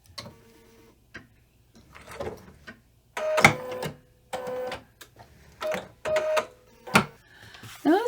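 A domestic sewing machine stitches fabric in short bursts of whirring, clattering needle action, with brief quiet pauses between the runs.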